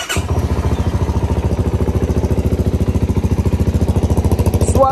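A CFMOTO CLC 250 single-cylinder motorcycle engine fires up and settles into a steady, close, loud idle with an even, rapid thumping beat.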